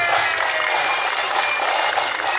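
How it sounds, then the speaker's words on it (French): Audience applause at the Plougastel strawberry festival parade in 2019, greeting the Cercle Bleu dance circle: steady dense clapping from a crowd, continuous and fairly loud outdoors, with no clear voices over it. "On peut les applaudir, bien évidemment."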